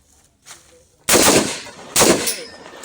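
Two loud, close R4 rifle shots ring out about a second apart during shooting practice at a range, each a sharp crack with a ringing tail, after a faint earlier pop.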